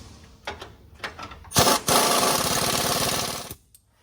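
An impact gun hammers on the control arm bolts of a 2007-2018 Chevy/GMC truck during a lowering job, first with a few short bursts and then with one loud, sustained rattling run of about two seconds before it stops.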